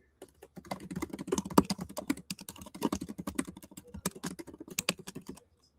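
Fast typing on a computer keyboard, close and clear, brisk irregular bursts of key clicks that run for several seconds and then stop.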